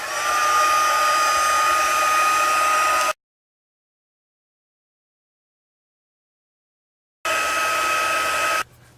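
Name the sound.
heat tool embossing powder on a silicone mat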